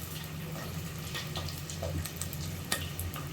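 Carrot pieces hit a pan of frying onions and green chillies for a vegetable biryani, giving a steady close sizzle with stirring scrapes and small clatters throughout.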